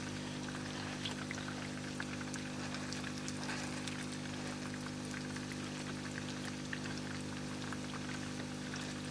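Raw potato chapli kebabs frying in oil over a low flame, a faint, steady sizzle with tiny crackles scattered throughout, heard alone.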